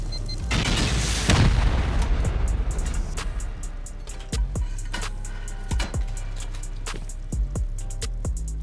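Rockets and explosives blasting through a base raid in the survival video game Rust: a huge opening blast with long rumbling decay, followed by a series of sharper, deep booming explosions at irregular intervals, loud and close with no talking.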